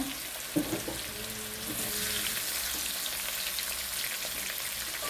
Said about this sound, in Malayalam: വറുത്ത് കോരുവാണ്.